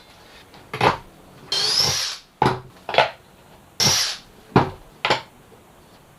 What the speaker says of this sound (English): Couple of screws there, couple of screws there, and that's done.